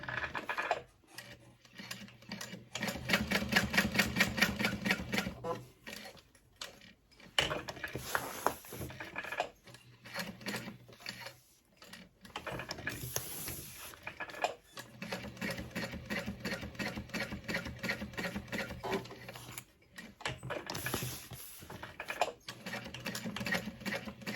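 A sewing machine edge stitches around a fabric tote bag in several rapid, steady runs of needle clatter, separated by short pauses, close and clear with no talking.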